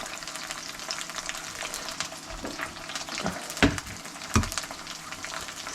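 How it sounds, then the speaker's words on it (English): Eggs scramble with chorizo in a frying pan under a splatter shield, a steady sizzling hiss broken by several sharp spatula scrapes and clacks against the pan, close and fairly loud with no talking. "let's get some eggs scrambled up for this."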